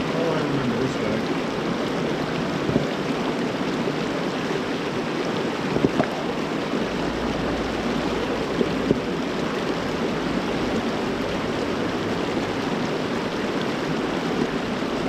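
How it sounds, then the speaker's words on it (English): Water spills steadily over a small artificial waterfall on the Truckee River, a continuous broadband rushing that stays even and fairly close throughout, with a faint low rumble partway through. "it forces the water to go over this little waterfall that I've got, this artificial waterfall"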